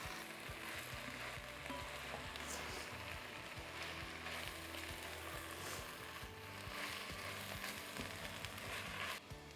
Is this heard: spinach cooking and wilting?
yes